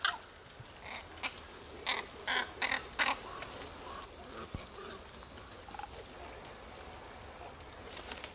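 Ravens calling in a mountain park where the birds ride on pigs, a run of harsh caws clustered in the first few seconds, moderately distant over a low outdoor background, then fading to scattered faint sounds.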